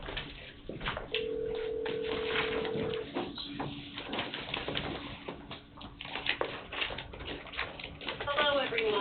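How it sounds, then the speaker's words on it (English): A telephone call is placed on speakerphone during a county commission meeting, with a steady dial tone running for a couple of seconds under chatter in the room, followed by faint ringing tones amid ongoing talk. "we gotta get Sydney on the telephone"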